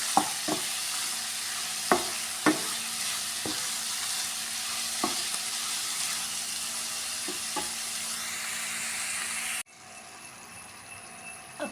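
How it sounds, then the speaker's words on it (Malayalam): Steady loud sizzling of prawns frying in coconut oil in a pan, with occasional sharp clicks of a utensil against the pan, then a sudden drop to quieter sizzle near the end. "ചട്ടിയിൽ കുറച്ച് വെളിച്ചെണ്ണ കുഴിച്ച് ഒന്ന് ഫ്രൈ ചെയ്തെടുക്കുക"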